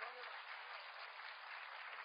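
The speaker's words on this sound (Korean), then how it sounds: "하나님께 영광의 박수" A congregation at a church service applauds in praise of God, with dense, steady clapping sustained throughout without a break.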